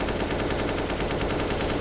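Rapid gunfire in a professional Counter-Strike match on the Nuke map, a fast, steady run of repeated shots at moderate distance under a busy game background.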